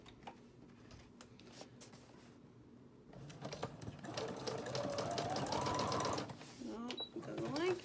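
A sewing machine stitches lace and fabric, its rapid mechanical whirring rising loudly from the middle onward after quieter handling noises, with someone talking briefly over it.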